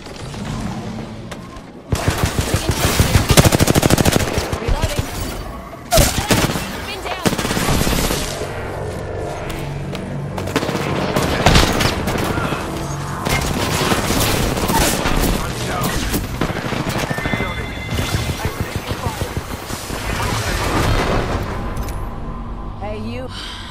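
Rampage LMG gunfire in the video game Apex Legends, loud rapid automatic bursts repeating across the stretch with brief gaps, while a voice talks over the shooting.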